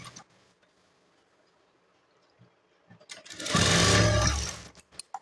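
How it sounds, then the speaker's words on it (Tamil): A sewing machine stitches the front part of a blouse in one close, loud burst of rapid rattling that lasts about a second, preceded by faint handling ticks and rustles. "லைட்டாக திரும்பவும் நான் இன்னொரு தையலை போட்டுறேன்"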